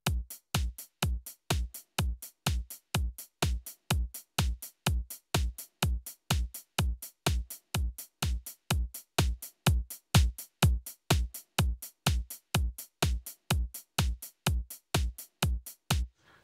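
Drum kit processed with New York parallel compression in Logic Pro X, a steady, evenly spaced run of punchy hits with strong low thumps and crisp tops, repeating without pause, heard alone.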